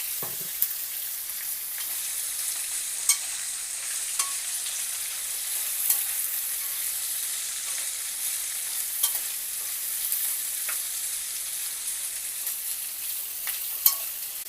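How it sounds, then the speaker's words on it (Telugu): Jackfruit seeds fry in a pan for a pulao, giving a steady, close sizzle broken by sharp scrapes and clinks as they are stirred; no one speaks. "పనస గింజలు కూడా వేస్తున్నాను."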